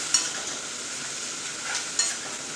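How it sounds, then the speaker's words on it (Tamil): Onions frying in a pan as they cook toward golden brown, a steady broadband sizzle with two brief stirring scrapes, close and even throughout with no voices. "வெங்காயத்தை போட்டுக்கலாம். வெங்காயம் நல்லா பொன்னிறமாக கோல்டன் ப்ரௌன் வரணும்."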